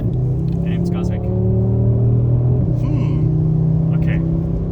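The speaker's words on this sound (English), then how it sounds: "I love the intake sound. I like the sound of the exhaust as well." Audi RS3 engine droning loudly from inside the car, a steady rumble with intake and exhaust tones that shift in pitch as the throttle changes, while people talk over it.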